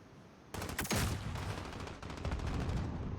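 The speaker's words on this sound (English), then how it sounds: "Stay still and let me shoot you." Rapid bursts of gunfire from Call of Duty: Modern Warfare (2019), a loud sharp volley followed by steady, dense automatic shots continuing to the end.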